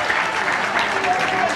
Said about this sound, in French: Donc des applaudissements.